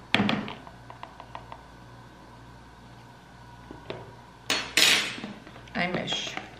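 A utensil scrapes and clinks against a bowl while banana and egg batter is stirred, with scattered soft taps followed by a few louder clattering knocks near the end.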